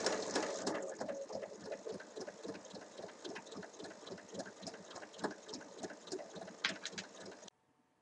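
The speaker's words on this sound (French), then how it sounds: "là je vais faire un point à la machine" A sewing machine runs steadily, stitching a small pencil case with very short stitches. Its rapid rhythmic clatter is close and continuous and stops abruptly just before the end.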